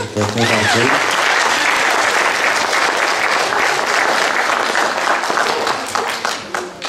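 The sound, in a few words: audience applause at music school event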